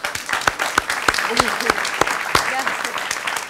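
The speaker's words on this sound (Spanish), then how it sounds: "Un aplauso para ella." A TV studio audience applauds a guest on a live talk show; scattered, fairly close claps with distinct individual hits, and a voice speaks briefly over them.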